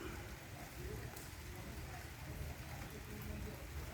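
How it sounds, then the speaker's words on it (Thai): Steady rain falls outdoors as a constant, even hiss of drops on surfaces, moderately close and unbroken throughout. "ตอนนี้ฝนก็ลงเม็ด"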